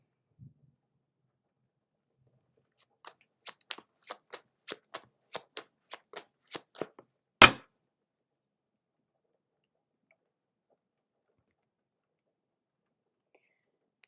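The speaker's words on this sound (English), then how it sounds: "Next, we will pull a card from the Chakra Wisdom Tarot." Chakra Wisdom Tarot cards being handled in a quiet room: a run of about ten crisp, evenly spaced card snaps, then one firmer slap as a card is pulled and set down, then silence.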